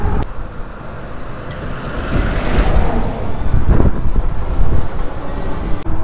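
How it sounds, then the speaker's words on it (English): Road traffic rushes past a fat-tire electric bike on a busy road, a loud continuous roar of vehicles mixed with heavy wind buffeting on the microphone, with no talking. "Lots of traffic here."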